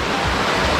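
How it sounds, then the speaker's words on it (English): The Hidlumane waterfall on the Kodachadri trek, a dense, steady roar of rushing water, loud and close, with no voices. "Look at the waterfall."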